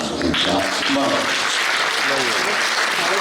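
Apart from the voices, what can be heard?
audience applause, standing ovation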